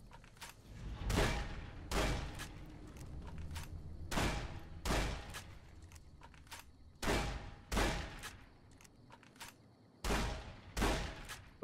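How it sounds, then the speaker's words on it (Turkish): Caravan shotgun blasts from Fallout: New Vegas, about ten sharp, evenly spaced shots over steady game background noise, moderately quiet overall. "Ölsene lan sana kervan pompalısıyla sıkıyorum."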